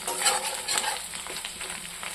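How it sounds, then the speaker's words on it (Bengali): Dried fish and onions fry together in a pan, giving a steady, close sizzle with scraping stir sounds over about two seconds. "শুটকি ভাজা হয়ে গেছে পেঁয়াজের সাথে"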